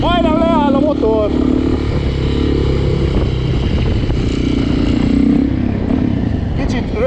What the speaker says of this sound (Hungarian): Milyen szép hangja van? Majdnem leáll a motor!